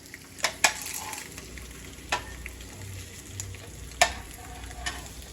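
Eggs fry in a pan with a soft steady sizzle, punctuated by a few sharp clicks and scrapes of a utensil against the pan.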